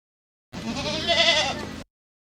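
A young goat kid gives one clear, wavering bleat lasting about a second, close and alone against silence.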